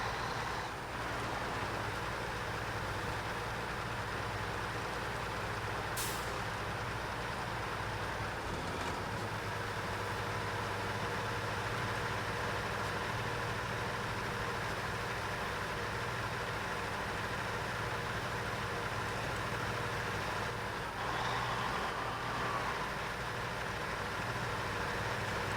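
A truck engine drones steadily while driving off-road through mud in SnowRunner, a low, continuous rumble with a brief shift in tone partway through and no talking.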